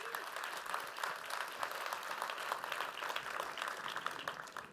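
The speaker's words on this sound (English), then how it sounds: "So let's give them a round of applause, guys." A crowd claps steadily at a technology launch event in New York, a dense, even wash of applause throughout with no speech.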